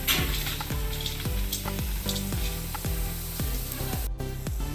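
Sev frying in oil: a loud, continuous close-up sizzle and crackle runs throughout, with a repeating swooping tonal pattern layered on top.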